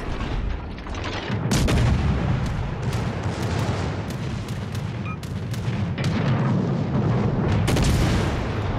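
Warship guns in World of Warships: Legends fire repeatedly, with sharp booming shots scattered over a continuous rumbling battle backdrop.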